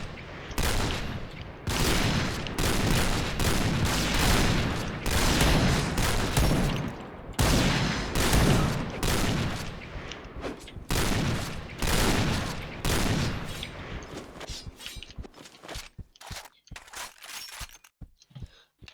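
Rapid gunfire bursts in the shooting game Point Blank rattle in dense volleys, broken by short gaps and ending in scattered single shots, with voices talking over parts of the action.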